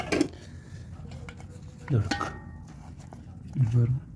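Mutton spleen pepper gravy being stirred and mixed in a pan at a street food stall, with three scraping bursts of the utensil against the pan spaced across a low background hum.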